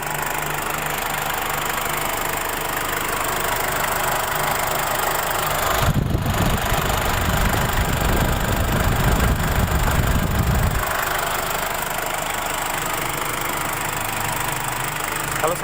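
A 2004 Ford Ranger TDi diesel engine idling during injector cleaning, a steady close rumble with a constant knock, swelling into a louder, rougher burst in the middle before settling back to an even idle.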